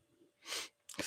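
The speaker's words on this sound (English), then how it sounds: "I feel like I'm about to sneeze." A single short sneeze, a quiet sharp burst that comes alone after a soft intake of breath, close to the microphone.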